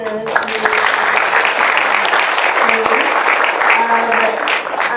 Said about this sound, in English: Maybe we can give a big applause